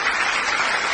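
Studio audience applause on an Italian music TV show, a steady dense wash of clapping heard alone for about a second.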